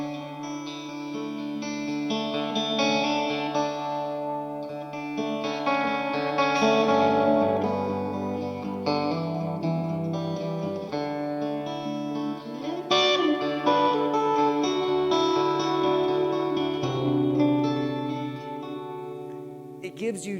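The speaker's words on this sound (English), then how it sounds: "little reverb, little echo." An electric guitar played through a Matchless amplifier with reverb and a Strymon El Capistan echo pedal sustains chords and melodic notes continuously, with lush echo tails blending the tones.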